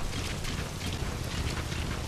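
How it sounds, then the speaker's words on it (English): Steady rain hisses in the video game Metal Gear Online, a dense, even wash of falling drops with no voices over it. "It's raining."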